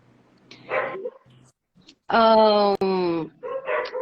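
Dogs bark in loud, sustained bursts close by, one long harmonic barrage in the middle with shorter yips before and after, over a voice.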